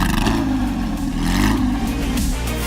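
A Porsche sports car engine, from the 911 GT3 RS and Carrera GT lineup, revs loudly and close with a rising and falling whine and deep mechanical growl, with no voices.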